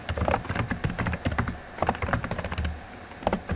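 Typing on a computer keyboard: rapid, irregular bursts of close, crisp key clicks with short pauses between runs and no talking.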